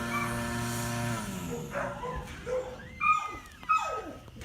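Several dogs bark, yip and whimper in a neighborhood while mosquito spraying passes by, with sharp rising yelps near the end over a steady background hum.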